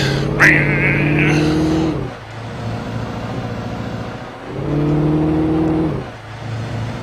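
A worn-out car engine in the video game Alan Wake drones and revs on a slippery road, swelling twice with rising pitch between lower idling stretches, loud and close with faint speech at times.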